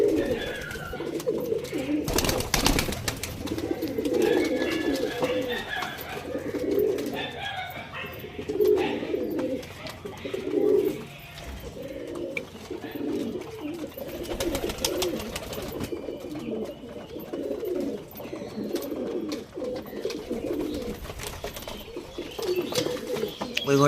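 Kalanka pigeons in a loft coo repeatedly in soft, low, rhythmic phrases against steady background noise, with occasional brief louder knocks.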